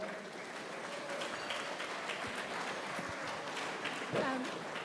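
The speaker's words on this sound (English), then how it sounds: "So will you give a big round of applause, please, to Martina O'Moore and Brian Brennan." Conference audience applauding steadily throughout, a dense even wash of many hands clapping at moderate distance, with no voices over it.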